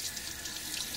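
Cold hard water runs steadily from a tap into a sink, a close, continuous splashing stream at moderate level with no voices.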